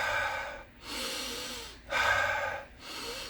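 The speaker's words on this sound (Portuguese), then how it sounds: "literalmente ele puxa uma respiração" Deep breaths are drawn in and pushed out in three long, loud cycles with short pauses between them, close to the listener and with no talking.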